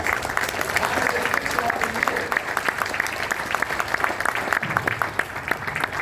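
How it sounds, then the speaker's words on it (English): A crowd gives a round of applause at a Cincinnati Reds fan caravan event in Charleston, West Virginia, with dense continuous clapping, a few sharp close claps and some murmured voices beneath. "Let's give another round of applause."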